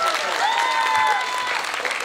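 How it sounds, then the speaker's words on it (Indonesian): Steady, dense applause from an audience at a religious gathering honoring the RT neighborhood head, sustained throughout at even loudness with faint voices mixed in. "Tepuk tangan untuk RT."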